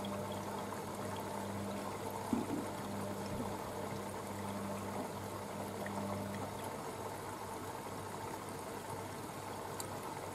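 A Bosch VarioPerfect WAK28260GB washing machine runs a 90-degree cottons prewash with towels and a blanket, giving a continuous close wash of sloshing, trickling water over a steady low motor hum.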